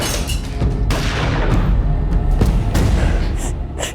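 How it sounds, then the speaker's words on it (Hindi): Gunshot effect in a crime drama, a loud booming report with thuds over a dense, rumbling background, several sharp broadband hits spread across the passage. "गोली चलने की आवाज आई"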